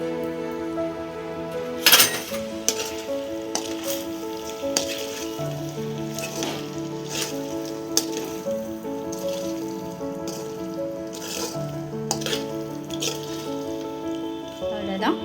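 Chilli chicken fries in a pan with spring onion, a steady sizzle running throughout with occasional utensil clinks against the pan, under a synthetic music backing.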